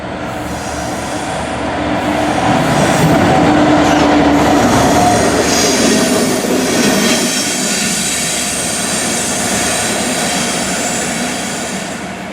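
A Class 69 diesel locomotive rolls through Stone station on the North Staffordshire line, its heavy rumble swelling up close, holding loud with wheel squeal and rail clatter, then easing off as it passes.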